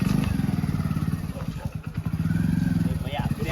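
A motorcycle engine chugs in a steady, close, pulsing rhythm beneath people talking loudly over it in a Gujarati village comedy scene.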